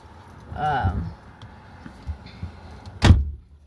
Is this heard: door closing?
yes